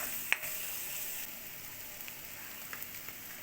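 Spice powders frying in a pan for cabbage palya give a soft, steady sizzle, fairly quiet and close, with one sharp tap near the start and a few faint clicks later.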